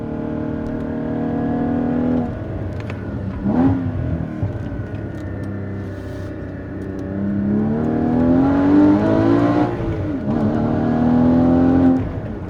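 A Porsche 718 Cayman GTS (981-generation comparison) engine with valved exhaust revs up repeatedly, pitch climbing and falling in several sweeps, loud and close with no talking.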